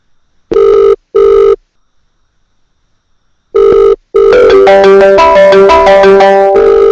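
A loud, close telephone signal plays while voicemail is called: two short ringback tones, a pause, a third tone, then a longer run of musical dialing and prompt tones.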